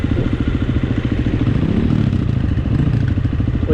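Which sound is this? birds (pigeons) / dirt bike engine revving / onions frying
dirt bike engine revving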